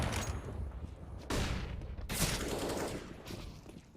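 Dense volleys of rifle fire from a Counter-Strike esports match on the Overpass map, with bursts overlapping almost continuously for several seconds and sharp onsets cutting through a busy, loud game soundscape.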